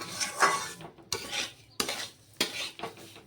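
Semolina and sugar being dry-fried in a pan, spaced scraping strokes and sharp metallic taps of a spoon against the pan, close and quiet with short pauses between strokes.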